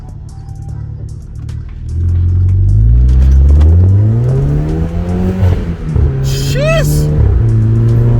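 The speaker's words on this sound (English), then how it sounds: "the sound of the exhaust is changing" A VW Polo 6R GTI engine revs up loudly in sport mode with a deep, throaty exhaust roar that rises and falls, while a person briefly exclaims.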